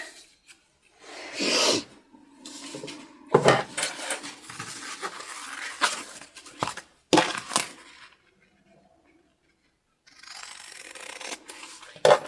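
Scissors cut through fabric pieces for a sewn bum bag: a few separate bursts of snipping and rasping cloth, close up and moderately loud, with short quiet gaps between cuts and a final snip at the end.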